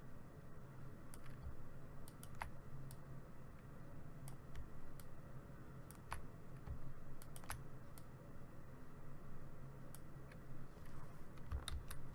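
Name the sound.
computer mouse clicks while holding Alt key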